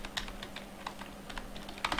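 Rapid keystrokes on a computer keyboard while a Laravel PHP artisan command is entered, closing with a slightly heavier keypress; close, moderately quiet clicking over a low hum, with no talking.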